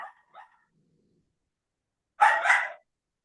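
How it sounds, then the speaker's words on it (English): A dog barks once, loud and close, after a couple of faint short yips; otherwise quiet. "somebody's doggy is barking"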